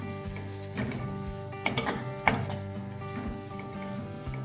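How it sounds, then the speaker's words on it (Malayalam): Turmeric, coriander, chilli and pepper powders sautéing in a pan for squid thoran, a steady soft sizzle with occasional scraping stir clicks of a utensil, close and continuous without speech. "ഇതിട്ട് നമുക്ക് കുറച്ച് നേരം ഒന്ന് വഴറ്റി കൊടുക്കണം."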